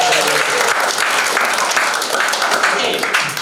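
Steady, dense applause from a live comedy audience, loud and close, sustained for the whole stretch with a slight fade at the end.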